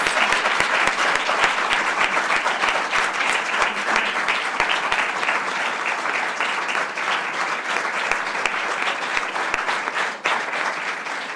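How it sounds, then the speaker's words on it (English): Sustained audience applause for competition finalists at the Hardt Cup finals, a dense, steady wash of many hands clapping at even loudness throughout, with no talk over it. "Please join me in giving our finalists a well-deserved round of applause."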